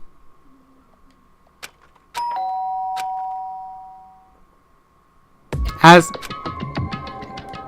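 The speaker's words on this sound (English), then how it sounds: "Can I hear the doorbell?" Electronic doorbell chime in the Danganronpa video game: a single sustained two-tone ding that rings out and fades over a couple of seconds, standing alone before a burst of game sound and voice afterward.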